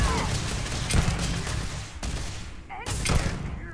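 Gun firing in Starfield, a few heavy booming shots with thuds in quick succession, loud and close, with a voice faintly in the background.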